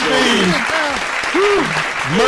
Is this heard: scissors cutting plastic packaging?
no